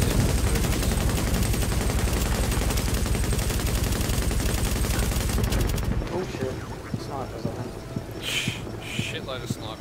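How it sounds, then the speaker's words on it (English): Gunfire, including shotgun fire, in Tom Clancy's The Division: a loud, rapid, continuous barrage of shots for several seconds, then sparser shots while voices briefly come in. "I'm suppressed by shotgun fire."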